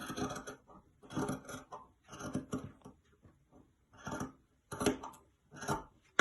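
Scissors snip through folded dress fabric in repeated bursts of crisp, close cutting strokes separated by short pauses.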